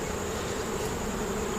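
Honeybees buzzing at an opened hive with many bees clustered under the lifted top cover, a steady, even, close drone throughout a brief moment.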